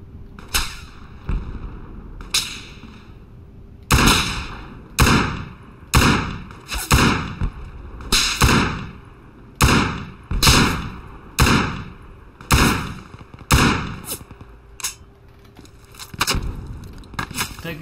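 Heavy incoming gunfire in the military shooter game Project Reality, with a desert urban setting in Basrah, cracks in sharp irregular bursts, roughly a dozen loud impacts in clusters over a steady low background.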